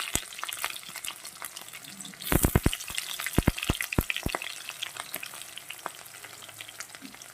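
Onion fries in a pan for a fenugreek-greens dish, a steady close sizzle broken by a cluster of sharp clacks as a spatula stirs against the pan.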